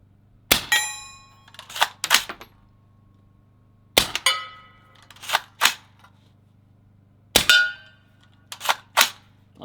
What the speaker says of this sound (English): did you hear that ricochet?